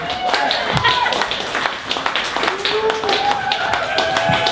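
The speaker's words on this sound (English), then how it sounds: "keep the applause going, keep it going" Applause from a comedy club audience runs continuously beneath a host who talks over it while introducing the next comedian. The clapping is close and lively, with scattered individual claps.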